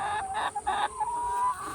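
Chickens cluck on cover crop land that is also grazed by cattle, with a few near, clear clucks and a drawn-out squawk that rises over steady outdoor background noise.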